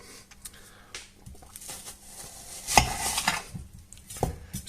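Carrots and potatoes are chopped for soup in a kitchen, with irregular knife knocks and clinks of utensils and pots, close and moderately loud, no talking.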